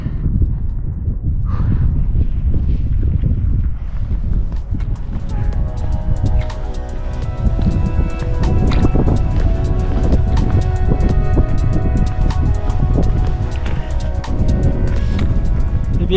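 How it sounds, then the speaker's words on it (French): Strong wind on the 2529 m summit of La Bonida buffets the microphone in a loud, continuous low roar that persists throughout, with faint tonal sounds underneath. "parce qu'il y a pas mal de vent"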